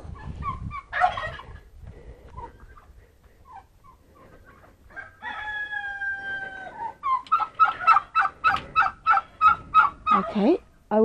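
Birds in an outdoor aviary on a small farm, with a few scattered calls, then a sustained whistled tone and a loud rapid run of rhythmic gobbling clucks close by.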